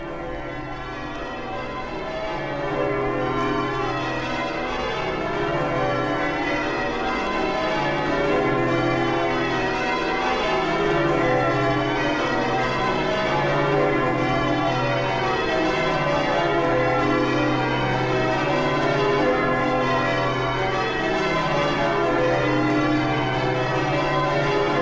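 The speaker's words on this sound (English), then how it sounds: "The bells of St Mary Redcliffe Church they are." The church bells of St Mary Redcliffe Church in Bristol ring in a continuous peal, overlapping tones sounding steady and full for the whole stretch with no voices.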